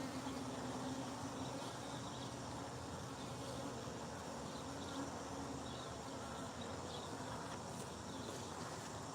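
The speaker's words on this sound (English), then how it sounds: "Oh, great, another bee." A bee buzzing faintly near a honey extractor during honey harvesting, a thin continuous drone with low background hum and no talking.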